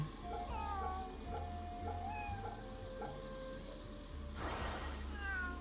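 A cat meows repeatedly in the video game Samurai Remnant, a series of short, clear mews over soft background music and ambient game sound, with a brief burst of noise near the end.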